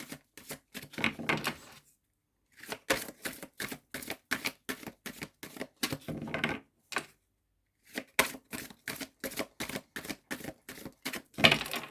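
Tarot cards being shuffled, a series of quick crisp riffling snaps and flicks in close bursts, broken by a couple of short pauses, with no talking.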